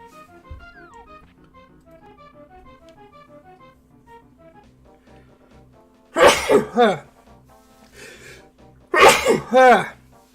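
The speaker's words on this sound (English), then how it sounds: "Sneezy sneeze." Two loud sneezes burst out a few seconds apart over soft, steady background music.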